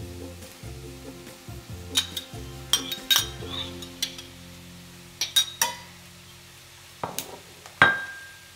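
Fried tofu and a yam bean filling stirred together in a bowl for pie tee, heard as repeated soft scraping and clinking of a utensil against the bowl, with irregular close knocks and a low background hiss.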